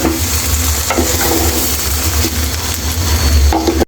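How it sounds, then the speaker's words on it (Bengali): Rice and chicken pieces stirred together for biryani in a hot pot, a steady loud scraping and sizzling with broad noise throughout, ending with a brief clink. "এখন আমি ভালো করে চালের সাথে মাংসটা মিক্স করে নেব"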